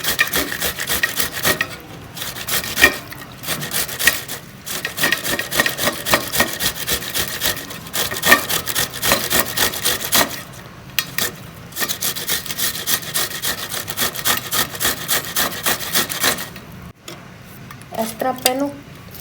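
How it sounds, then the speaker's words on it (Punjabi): A tomato is grated on a hand grater, giving steady rapid rasping strokes in a rhythmic back-and-forth pattern for most of the time, with a few brief pauses between runs and a soft knock near the end. "ਟਮਾਟਰ ਨੂੰ ਕੱਦੂਕਸ਼ ਕਰ ਲਿਆ ਜੀ"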